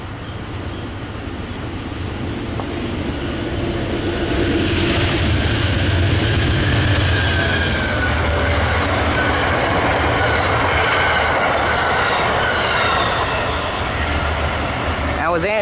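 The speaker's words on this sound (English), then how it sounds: "That was Amtrak number 42, the Pennsylvania for Pittsburgh." An Amtrak train hauled by a P42 locomotive, the Pennsylvanian bound for Pittsburgh, rushes through Villanova station at speed, a loud sustained roar with rhythmic wheel clatter and faint squeals as the cars pass close by.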